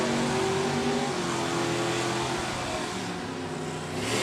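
Stock drag race cars, including a C-Stock automatic, launching at a Division 3 drag race, a loud sustained engine roar that holds strong for several seconds before easing slightly, with no talk.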